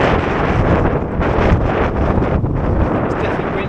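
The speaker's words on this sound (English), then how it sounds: "Windy up here." Strong wind roars steadily across the microphone on a hilltop on Kinder Scout, in loud, continuous buffeting gusts with no other sounds standing out.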